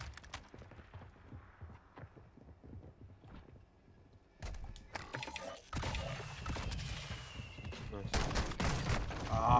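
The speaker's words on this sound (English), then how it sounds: "Fire breath shotty, man." Shotgun-style blasts and loud firing bursts from a fire breath shotgun in a video game, starting quieter with game noise and growing dense and loud in the second half, with speech mixed in.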